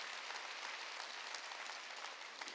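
A church congregation claps together at a Wednesday worship service, a faint, distant wash of many hands that stays even and continuous throughout without any voice on top.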